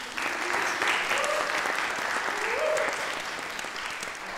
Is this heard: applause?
yes